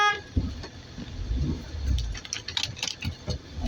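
A car horn honks briefly at a red light on a Memphis street, a short sharp toot over faint traffic rumble and small rattles inside the car.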